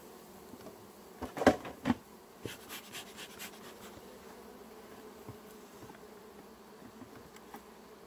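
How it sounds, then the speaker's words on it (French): Honey bees buzz faintly at a hive while a few soft knocks and rustles sound close by, with no talking. "voit qu'il y a quand même plus d'abeilles."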